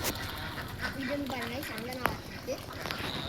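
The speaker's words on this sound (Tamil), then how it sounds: "இவங்க தான் நம்மக்கிட்ட இருக்க வாத்துங்க" Domestic ducks, including native ducks and a Manila duck, quack in short nasal bursts nearby while bathing and someone talks over them, with a few faint splashes in the background.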